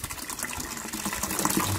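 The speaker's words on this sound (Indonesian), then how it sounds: "Jadi airnya udah keluar." Filtered bore-well water flows steadily out of a home water filter, a continuous close gushing and splashing stream that holds an even level throughout.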